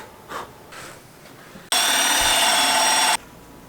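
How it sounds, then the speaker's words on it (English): A drill fitted with a paddle bit bores into a thick wood slab for a kitchen counter, a loud steady whirring grind lasting about a second and a half, with faint handling knocks before it. "That one's called a paddle bit."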